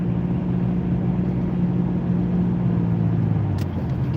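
A car accelerating through a lane change on metro roads, heard from inside as a steady loud engine and road rumble that holds evenly throughout with no one speaking.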